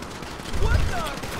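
Gunfire from enemies and snipers during a heist shootout in GTA 5, with dense, overlapping shots in a loud, noisy battle bed, while someone shouts over the action.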